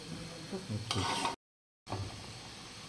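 Panch phoron and dried chilies hit hot oil with a sudden crackling sizzle and some stirring, close up, broken by a brief silent gap before the frying hiss resumes.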